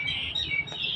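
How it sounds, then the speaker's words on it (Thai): A bird sings a bright, high warbling phrase with sliding whistled notes, close and clear over faint low background noise. "เสียงนกกระร้องค่ะ"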